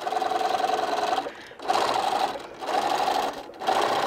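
A sewing machine stitches fabric for a dog bone neck pillow, running in three steady bursts separated by short pauses, loud and close with no talking.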